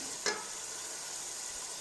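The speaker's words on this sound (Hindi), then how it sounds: "इसमें हम इतना पानी डालते हैं।" A sharp burst of hissing as water is poured into a hot pan of roasted chickpeas, followed by a steady sizzle of frying that continues evenly to the end.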